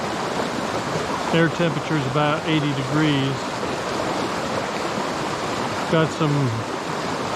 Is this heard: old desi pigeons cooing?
no